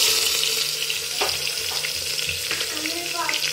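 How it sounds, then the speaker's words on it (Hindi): Cumin and onion sizzle in hot oil with a steady, close frying hiss and a few sharp crackles and stirring clinks. "हमारा तेल तप चुका है और इसमें सबसे पहले ऐड करेंगे हम जीरा, उसके बाद प्याज"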